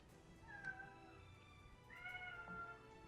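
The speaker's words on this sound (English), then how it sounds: "Do you guys hear a cat meowing?" A cat meows twice, faint and thin, two drawn-out rising calls over quiet background hiss during a tabletop role-playing session of Kingmaker.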